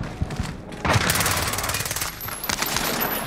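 Sniper gunfire in Call of Duty Warzone, a series of sharp, loud gunshots with a heavy report near the one-second mark and further cracks and rapid bursts through the rest, set against constant game ambience.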